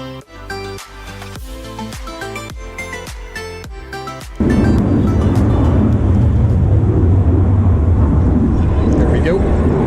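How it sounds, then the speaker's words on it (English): Fighter jets passing over a Fort Lauderdale air show create a loud, sustained roaring rumble that swells in abruptly midway and fills the rest of the clip, after an opening stretch with other sounds. "There's some air show going on in Fort Lauderdale, and there's some fighter jets flying over top"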